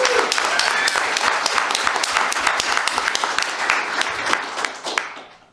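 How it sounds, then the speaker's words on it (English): Steady, loud audience clapping at a labor strike talk, many hands applauding evenly throughout before it fades out at the end. "so the clapping helps a lot"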